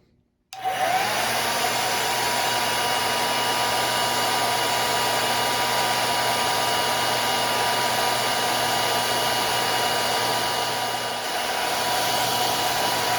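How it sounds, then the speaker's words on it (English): A blow dryer switches on and blows down into feather capes with a loud, steady whir, running continuously with a constant hum and airy rush. "use my blow dryer to blow down into the feathers"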